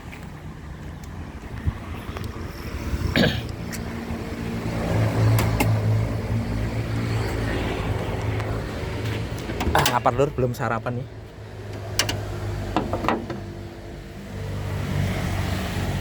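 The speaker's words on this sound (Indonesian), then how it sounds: "Mari kita nyalakan mesin" A 2005 car sits with its hood open as its engine starts and settles into a steady low idle hum, heard nearby beneath ongoing conversation for most of the stretch.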